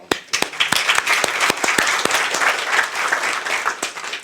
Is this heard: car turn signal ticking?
no